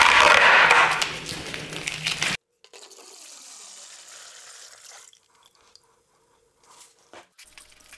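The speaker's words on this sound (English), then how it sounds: "While I'm never a fan of putting water in castings like this" Water gushes and splashes onto a woodturning resin casting for about two seconds, then stops, followed by faint handling clatter in a quiet workshop.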